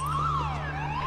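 An alarm goes off in a film scene as a frightened guard flees, a loud siren-like tone sweeping up and down continuously over a low steady hum.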